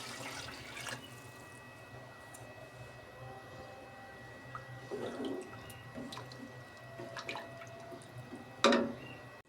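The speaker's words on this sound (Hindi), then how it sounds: "अब मैं इसमें डालूँगी पानी।" Water pours into a pot of chicken being cooked for pulao, a faint, steady splashing trickle with a few brief drips and louder splashes near the end, no talking.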